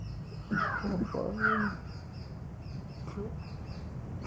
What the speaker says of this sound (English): Can all your senses listen to the bird's noise? The bird's sound.